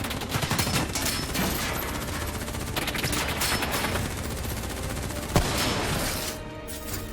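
Sustained automatic gunfire rattles through a Call of Duty: Black Ops 3 cutscene, dense overlapping bursts that fill the scene, with one sharper crack standing out near the end before it thins slightly.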